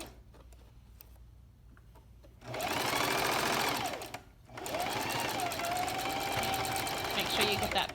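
A sewing machine back stitching a pocket lining runs in two loud, steady bursts of rapid mechanical chatter, close up, with a short pause between and quiet talk before the stitching starts.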